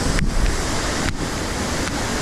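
High river water rushing steadily at a backcountry crossing, a loud continuous roar with wind buffeting the microphone and no talking.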